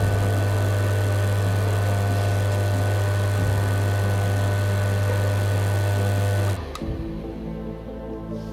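An electric motor on an SSBP-2.5 LITE soft-start device runs with a steady low mechanical hum and whine, close and loud, then cuts off abruptly near the end, leaving a quieter fading rumble.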